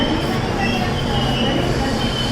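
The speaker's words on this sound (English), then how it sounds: "we have come to Ernakulam station" Train at Ernakulam railway station in Kerala, a steady loud rumble of rail cars with faint wheel squeal and crowd murmur, continuous and close throughout.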